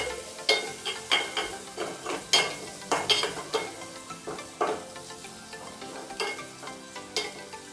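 Onions and turmeric frying in oil are stirred in a pan, with repeated close scraping strokes every half second or so over a steady bed of sizzle; no one speaks.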